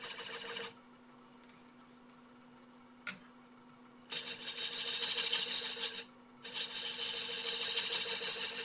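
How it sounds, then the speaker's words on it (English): A wood lathe hums steadily as a spindle gouge is rolled across spinning wood. Two bursts of rough, scraping cutting noise sit over the motor hum, with a brief tap before them. "I'm just rubbing the back of the bevel, lifting my handle, rolling it anti-clockwise."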